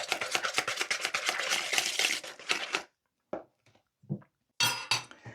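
Cream being beaten in a bowl to soften it, with a quick run of close, rhythmic clinking strokes followed by a few short, scattered taps and scrapes separated by silence.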